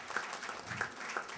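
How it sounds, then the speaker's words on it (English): A seated audience at a business conference on capital breaks into applause, a steady wash of many hands clapping for just over a second, moderately loud and without talk. "Let's give him a round of applause."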